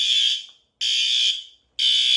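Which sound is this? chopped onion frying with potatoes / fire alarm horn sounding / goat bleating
fire alarm horn sounding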